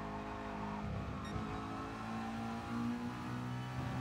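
A McLaren race car engine in GT Sport drones steadily at high revs, its pitch gently rising and falling as it accelerates, a continuous mid-level roar with no voices over it.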